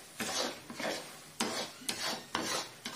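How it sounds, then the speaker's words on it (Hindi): Besan and semolina for modak stirred briskly by hand in a pan, a rhythmic series of gritty rasping scrapes, about six strokes close up and fairly loud. "तेज हाथ से इसको आप तेज हाथ से अच्छी तरह मिक्स करना।"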